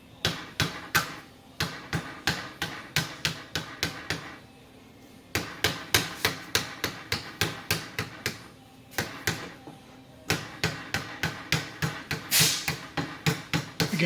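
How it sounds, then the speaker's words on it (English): Rubber mallet strikes 3000 series aluminum sheet clamped over a form on a table, a steady series of sharp, loud thumping blows in quick bursts with brief pauses between runs. "Once it's clamped to the table, I use a rubber mallet."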